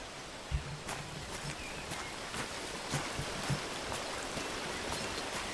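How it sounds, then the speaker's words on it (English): Continuous rushing waterfall in the forest survival game Among Trees, a steady broadband wash of falling water at moderate level with a few faint scattered thuds or steps over it. "we're coming up to an area of waterfall"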